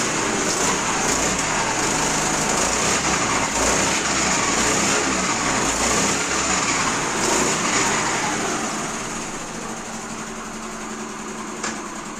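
An old Honda Activa scooter engine idles smoothly, a steady, even hum that stays close and continuous throughout and eases slightly softer toward the end, with no talk.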